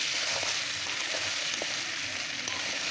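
Chicken curry with local free-range chicken frying in a pan, a steady close sizzle with faint stirring scrapes throughout.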